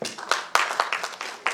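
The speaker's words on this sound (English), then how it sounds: "Let's give Dr. Adolf another big hand clap" Brief burst of audience applause for a panel speaker at a forum on freedom of expression in Uganda: scattered, fairly close hand claps over about a second and a half.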